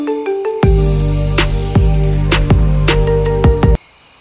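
A mobile phone ringtone plays loudly and close by, a repeating electronic melody with rhythmic beats that starts abruptly and cuts off after about three seconds, with no talking over it.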